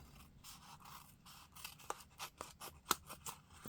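Scissors snipping a paper craft piece for a pumpkin project, a short series of crisp cuts and snips, close and fairly quiet, with a sharper snap near the end.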